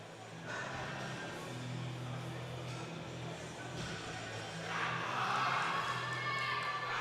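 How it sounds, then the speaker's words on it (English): A powerlifting crowd at a European Open junior classic meet roars in a steady broadband wash, swelling louder toward the end as cheering builds. "The crowd is going wild."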